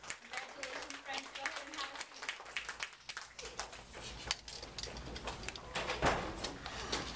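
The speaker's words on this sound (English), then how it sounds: "Let's give them one more round of applause." Audience applause at a school merit assembly, steady clapping filling the room for several seconds with speech mixed in.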